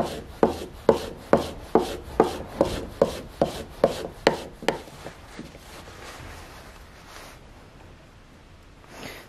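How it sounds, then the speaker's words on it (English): A freshly sharpened chisel is drawn over a strop in about a dozen brisk, evenly spaced rubbing strokes, close and crisp, then the strokes fade into quiet room tone. "And then you can just give it a little bit of a strop in."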